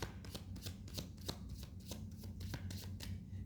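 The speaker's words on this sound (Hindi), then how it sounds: "मगर मैं भी शफलिंग कर रही हूँ" Tarot cards shuffled slowly by hand: soft, faint, evenly spaced papery slides and taps close by, repeating in a gentle steady rhythm.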